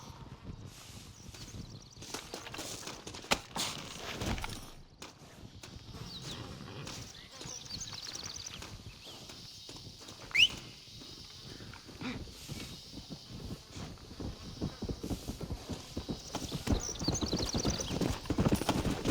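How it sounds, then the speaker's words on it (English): Horse hooves clip-clop steadily in Red Dead Redemption, a continuous trotting rhythm with an occasional whinny, under a dense mix of game ambience that grows louder toward the end. "Looks like Carlos left us some horses."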